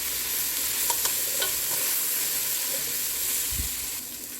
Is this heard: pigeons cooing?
no